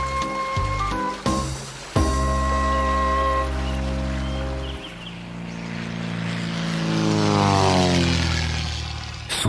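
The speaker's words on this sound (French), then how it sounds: "Soudain, le moteur d'un monoplan précipita les battements de mon cœur" Monoplane engine flying low over a valley, a loud propeller drone with strong rising and falling tones that swells and sweeps past close by, opening with a few sharp knocks before the steady engine roar.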